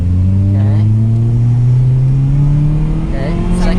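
A manual car, a replica Mitsubishi Evo, accelerates in a gear, its engine droning loudly and rising steadily in pitch from inside the cabin, with faint voices talking under it.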